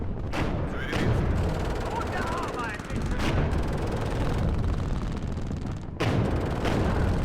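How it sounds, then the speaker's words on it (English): Machine guns firing in WARNO, a modern military strategy game, with dense, continuous rattling bursts and booms broken by a few brief pauses, loud and busy throughout. "Machine guns are annihilating the leader, that's good."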